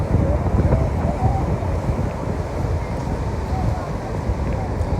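Ocean waves and strong wind at Number 2 Beach near Freetown, Sierra Leone, a constant dense roar of surf with heavy wind buffeting the microphone throughout, with no talk.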